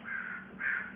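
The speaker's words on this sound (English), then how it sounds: "I want to apologize for the crows outside fighting with the parrots and the palm trees" Crows caw outside near palm trees, heard through closed windows, two drawn-out harsh calls in quick succession, muffled and moderately distant over a low steady indoor hum.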